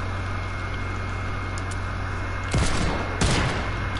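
Gunfire in a multiplayer shooter video game: two sharp, loud shots crack out near the end over a steady low hum and faint background noise, with no talking.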